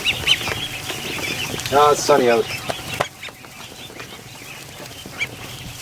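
Ducklings in a barn give a couple of short, close quacking calls amid background rustling, while someone speaks briefly.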